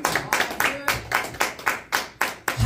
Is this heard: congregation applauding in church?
yes